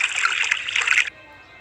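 Kangen water being poured into a cup: a bright, continuous splashing trickle, close and fairly loud, that stops abruptly after about a second.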